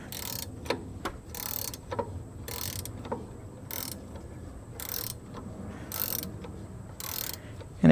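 A 15 mm ratchet wrench working the pulley assembly off a GM HT6 AC compressor clutch, giving short bursts of rapid ratcheting clicks at a steady rhythm, close and moderately loud, with no talking.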